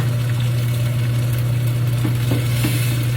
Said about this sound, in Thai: ผัดไข่ให้สุกก่อนนะคะ